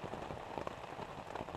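Steady rain falls outdoors at a wilderness canoe campsite, a dense, even patter of drops on surfaces continuing without break.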